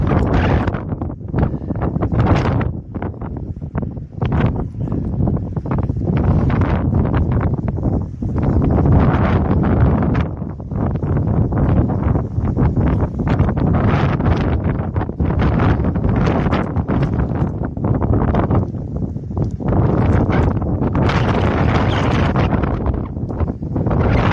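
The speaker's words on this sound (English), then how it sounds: "There's been a lot of wind today" Strong gusting wind buffets an exposed microphone on the Pacific Crest Trail at mile 165, roaring and rumbling loudly and continuously with surging blasts throughout, no voices.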